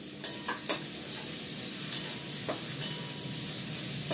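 Potatoes and onions stir-fried in a pan, a steady close sizzle broken by repeated sharp scrapes and clatters of the spatula stirring them, with no talking.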